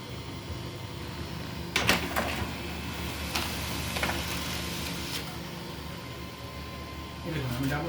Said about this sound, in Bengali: এখানে আমি এই যে ডাবল পেজ এখান থেকে প্রিন্ট দিচ্ছি